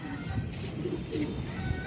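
A white Sialkoti pigeon coos softly in low, rolling phrases close by, alone with faint background noise.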